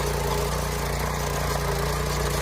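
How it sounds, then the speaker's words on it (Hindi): A motorcycle-engine power weeder pulling a cultivator through soil runs with a steady, loud mid-low engine drone and a constant rhythmic thrum, close by and alone, with no talk. "ये देखिए ट्रैक्टर की तरह चल रहा है पूरा"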